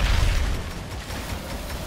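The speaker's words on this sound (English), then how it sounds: "The Bucket's shooting at me." Gunfire from Bucket, a robot hunter in the video game Evolve, lands as a dense, booming burst of blasts, loudest at the start and rumbling on briefly, with no voices.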